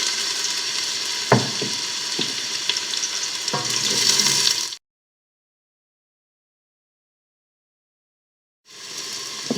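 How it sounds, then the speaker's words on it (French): Onions, aromatics and ginger sizzle in a pan for a beef bourguignon, a dense steady fry with a few sharp stirring knocks, then sudden silence before the sizzle returns. "maintenant je mets mes aromates, mes oignons et mon gingembre"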